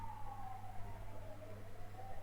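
An ambulance siren wails faintly in the distance, a single falling tone drifting steadily over a low constant hum from the surroundings, heard in the background of a casual setting.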